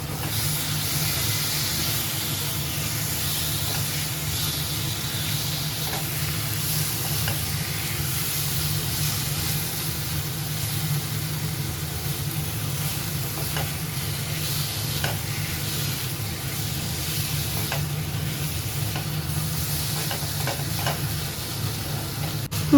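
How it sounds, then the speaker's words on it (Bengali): Prawns frying and being stirred in spice paste in a pan for chingri malaikari, with a steady close sizzle and occasional scraping clinks of the stirring spoon throughout. "মাছটা একটু ভাজতে ভাজতে মাঝে মাঝে একটু নাড়িয়ে চাড়িয়ে আমি একটু ঢাকা দিয়ে দিয়ে করে নিচ্ছি"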